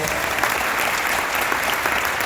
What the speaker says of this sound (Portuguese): eu gostaria que você saudasse o pastor Ron com palmas